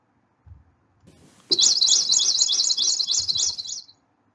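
A ramchakli bird sings a rapid, high, warbling trill for about two seconds, clear and close, preceded by a few soft rustles.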